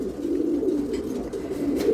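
Pigeons coo in soft, low, rolling phrases that repeat continuously and sit close and fairly clear, with no voices over them.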